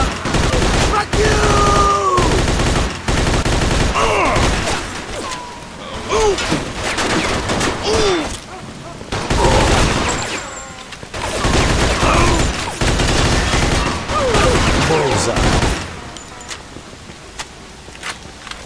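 Gunfire in the video game Mafia II: dense bursts of shots and automatic fire, loud and close, coming in clusters over a steady game soundtrack, with footsteps and brief grunts mixed in.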